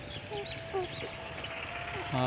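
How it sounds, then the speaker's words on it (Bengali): Village chickens cluck in short, scattered calls over a steady background, with people talking close by. "মুরগিগুলো সব বেড়াই গেছে গা"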